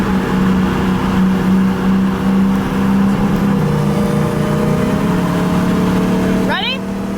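A Dodge Demon and a 2018 Mustang GT idle side by side before a drag race, a loud continuous engine drone with a rev shift midway and a brief squeal near the end.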